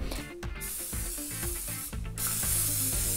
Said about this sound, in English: you just need a cooking spray